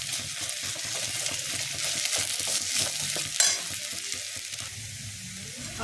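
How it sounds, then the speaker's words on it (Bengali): Onions and ginger paste fry in a pan for homemade vegetable chops, a dense close hiss with regular stirring scrapes, one sharp clack near the middle, easing slightly toward the end. "আর আদা বাটাটা একটু ভাজা ভাজা হয়ে গেলে"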